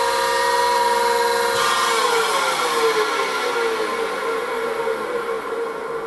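A domestic chakki flour mill runs steadily, a loud, dense motor whine with a grinding rasp that shifts and slowly settles in pitch; no voices are heard.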